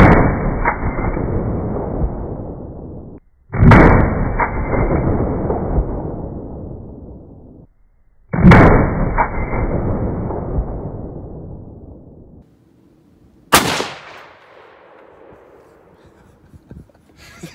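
.30 caliber rifle fitted with a Hancock Armory muzzle brake, three loud close shots several seconds apart, each with a long decaying boom, followed by a sharper crack with a shorter tail.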